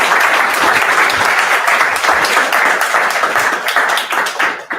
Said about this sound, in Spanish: Muchas gracias, Nicolás, un fuerte aplauso.